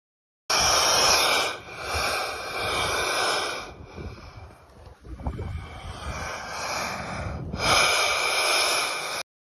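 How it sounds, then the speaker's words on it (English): Ocean waves surging through rocks make a loud, hoarse rush that swells and ebbs in breath-like pulses, with brief lulls near two and five seconds before the washing roar returns. "Rocks sound like they're breathing."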